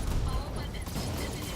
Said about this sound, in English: Those ammo explosions, though.